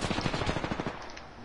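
A rapid, close burst of automatic gunfire in Apex Legends, with quick repeated shots fired in quick succession and no talking over them.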